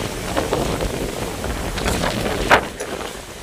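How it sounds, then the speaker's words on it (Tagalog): Gusty wind on a mountaintop buffets the microphone with a rough, continuous rumble, swelling and easing, with one sharper gust near the end. "Ay paano hindi lalakas ang hangin? Nasa kaibabawon tayo ng bundok."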